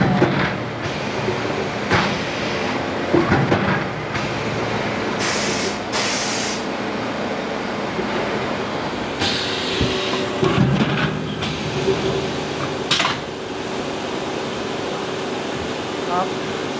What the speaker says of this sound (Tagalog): Kapag ganito yung machine mo, medyo hindi ka pagod kasi automatic na siya